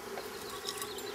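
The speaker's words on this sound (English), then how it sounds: "There's a really big swarm now." A large swarm of honey bees fills the air with a dense, steady buzzing that stays loud and close throughout, with no voices over it.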